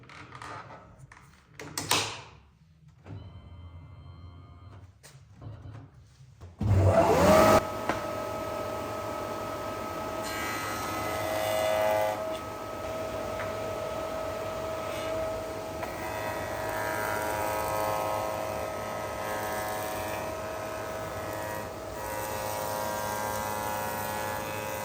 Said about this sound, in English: I can put that in my spindle and just mould that off